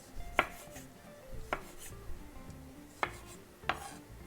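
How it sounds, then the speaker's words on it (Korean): Green olives being quartered with a knife on a cutting board, four crisp separate chops spaced about a second apart over a quiet kitchen background, close and without talking. "자, 이거는 4등분 하겠습니다."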